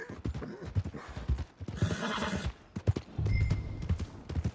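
A horse's hooves clip-clop and a whinny rings out in Red Dead Redemption 2, close and clear, with the hoofbeats dropping briefly before picking up again toward the end.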